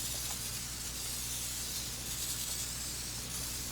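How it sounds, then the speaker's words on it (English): Cooking spray hissing steadily onto a loaf pan outdoors in wind, one continuous close spray with no talk. "You need to spray it pretty liberally."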